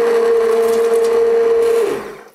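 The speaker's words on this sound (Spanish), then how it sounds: "lo hacen en la licuadora común" A blender whirs loudly and steadily while blending a red wine sauce, a strong motor whine that holds for about two seconds before spinning down and fading out.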